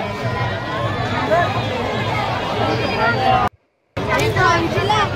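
Dense crowd bustle at the Ambernath Shiva temple Mahashivratri fair: loud, continuous overlapping chatter and voices close around, cut off by a brief silent gap before the hubbub resumes.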